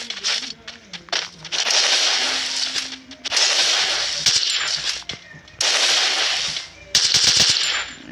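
Automatic gunfire in the battle royale game Free Fire, long loud bursts of rapid shots separated by brief pauses, with a few sharp single cracks between volleys.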